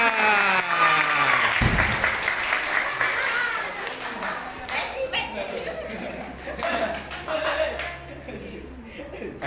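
A classroom audience breaks into hearty applause, with loud clapping that starts abruptly and gradually thins out, alongside chuckles, shuffling and a teacher's voice speaking over the tail.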